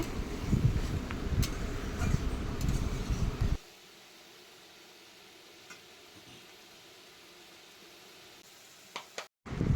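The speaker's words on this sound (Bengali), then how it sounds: "তারপর মশলাটা ভালো করে ভেজে নেব" Spice paste for a Bengali fish curry with potato and eggplant sizzles loudly in a hot pan for a few seconds, then drops to a faint low simmer.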